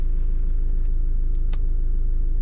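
A van's engine idles steadily just after being started, a loud close continuous low rumble with an even throb and a couple of faint clicks, no talking.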